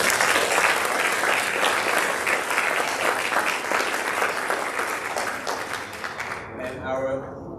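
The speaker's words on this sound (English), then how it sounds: "we want to give her a round of applause" A dense, loud round of applause fills the room at a school district board meeting honoring a retiring staff member, holding strong for several seconds before tapering off as a voice begins.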